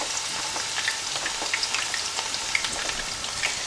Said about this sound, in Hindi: तो इसको अच्छे से यहाँ पर फ्राई करते हैं हाई फ्लेम पर